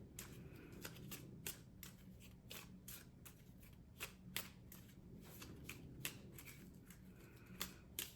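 A deck of cards is riffled and bridged in quick, crisp bursts of flicking clicks, close and fairly quiet, repeating steadily without talk.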